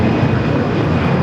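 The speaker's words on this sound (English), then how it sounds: "This taking off is Allegiant Air 782, the A320 taking off to Cincinnati." An Allegiant Air A320 roars on its takeoff run at Los Angeles airport, a loud, steady, broadband jet-engine rumble filling the whole moment with no voices.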